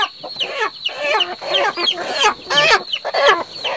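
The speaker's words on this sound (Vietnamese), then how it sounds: "Có vẻ sẽ nghe thấy tiếng gà kêu hơi chói tai một chút các bác nhé." Several chickens cluck and squawk continuously at close range, shrill and insistent, with rapid overlapping calls filling the whole stretch and no talk over them.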